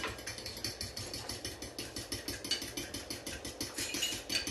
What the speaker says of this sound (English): you can really get after that whisking process, vigorously whisk